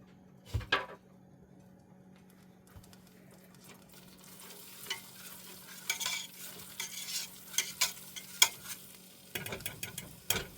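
Garlic frying with onions and celery in a pot for gnocchi soup, a quiet steady sizzle that grows busier partway through, with intermittent sharp scrapes and clinks of stirring.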